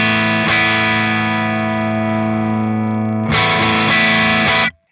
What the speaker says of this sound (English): So you can get some nice edge of breakup tones out of this pedal